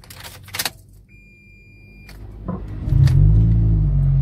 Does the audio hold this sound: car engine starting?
yes